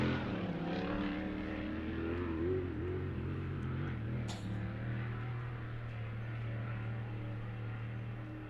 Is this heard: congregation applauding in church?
no